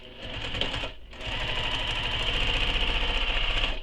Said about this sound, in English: And you can do any stitching that you like.